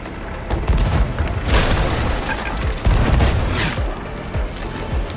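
Repeated heavy cannon booms pound a ship at sea in the pirate game Sea of Thieves, several loud impacts landing in quick succession over a constant wash of splashing and rumbling.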